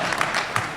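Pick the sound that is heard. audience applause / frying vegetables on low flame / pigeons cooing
audience applause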